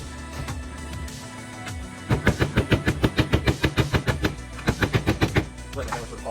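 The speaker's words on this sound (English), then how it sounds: "Finish it up with the hammer." Hammer tapping during fabrication of a back pad for a Harley-Davidson Sportster sissy bar, a fast run of about twenty evenly spaced metallic knocks close by, with a short break partway through.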